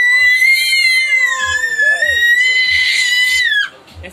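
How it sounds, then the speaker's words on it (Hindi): A baby girl screams loudly in one long, sustained high-pitched cry lasting several seconds, close and piercing, then breaks off abruptly. "कैसे चिल्ला रही जीजी"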